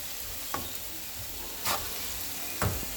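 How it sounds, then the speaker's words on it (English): Onion, ginger and garlic frying in oil for fried rice: a soft, steady sizzle with a few brief stirring scrapes standing out over it. "I'm going to fry it for 3 minutes."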